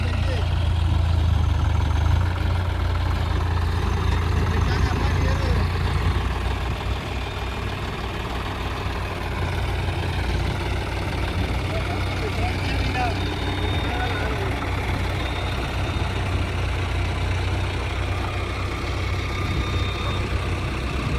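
A tractor engine idling with a steady low rumble that holds throughout, with indistinct voices in the background.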